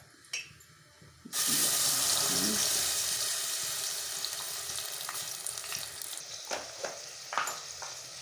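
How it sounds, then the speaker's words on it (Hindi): Blended masala spices hit hot oil for kaley channey, a black chickpea curry, and a loud, steady sizzle starts after a quiet second. It fades slightly as it goes on, with a few utensil clinks near the end. "सबसे पहले ऑयल डालेंगे और इसके बाद हमने मसाला ब्लेंड किया है ये डाल देते हैं साथ।"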